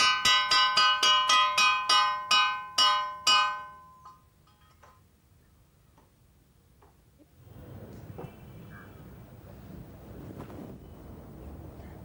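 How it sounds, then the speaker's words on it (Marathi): A bell rung to call people to a meal, struck in a quick even series of about ten clear ringing strokes that fade out, followed by quiet and then a breezy outdoor hiss. "मी जाऊन जेवणाची घंटा देऊन येतो"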